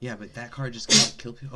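A single sharp sneeze bursts out loud and close in the middle of a casual conversation, with someone talking right before and after it.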